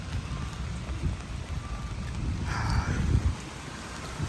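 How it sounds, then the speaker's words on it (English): Heavy rain falls steadily on a cold day in Los Angeles, a dense, even wash of drops on street surfaces with no voices. "It's a very rainy day in LA today"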